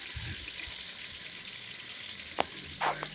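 Onions fry in a pot for party jollof rice with a steady, soft sizzle and faint stirring, broken by one sharp clink and a short metallic scrape near the end.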